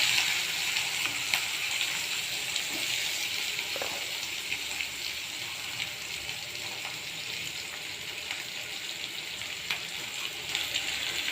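Mustard seeds, garlic and onion sauté in hot oil for beetroot poriyal with egg, a continuous bright sizzle with occasional stirring clicks and spoon scrapes throughout.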